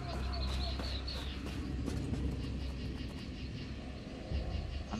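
Jungle birdsong in Elder Scrolls Online: faint chirps and warbling calls over a steady low ambient rumble, with a voice talking over it.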